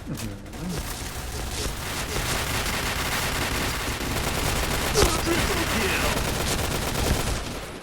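Sustained rapid gunfire from a gun in the shooter game PB rattles on as dense, loud, overlapping bursts, with someone talking over the shooting.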